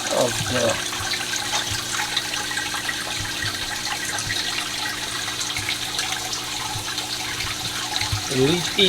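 Water trickles and splashes steadily out of a 3D printed hydroponic vertical tower for lettuce, a continuous close-up gurgle, with a voice briefly heard at the start and end.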